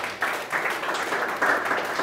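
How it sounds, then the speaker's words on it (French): A short, steady burst of audience applause, a wash of clapping from a crowd that swells slightly midway, with no clear speech over it. "Est-ce qu'on peut applaudir pour vous aussi?"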